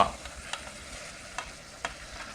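Chicken sizzles steadily in a hot pan, broken by a few sharp scraping stirs of a utensil.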